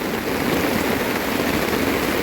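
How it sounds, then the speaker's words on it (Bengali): Heavy rain falling steadily and loudly just after a newly cast concrete kitchen roof was poured at a new house, a dense, even hiss with no pauses and no voices. "প্রচন্ড বৃষ্টি, সবাই বসে আছে।"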